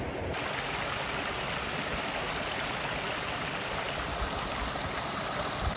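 A mountain stream in the Colorado forest flows in a steady, broadband rush of water, close and constant throughout with no voices.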